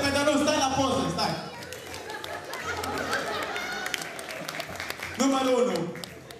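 Applause and crowd noise at a high school freshmen ball, loud and close, mixed with shouting voices and chatter that run through most of the stretch.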